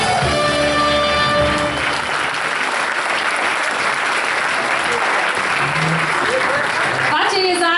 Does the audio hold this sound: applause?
yes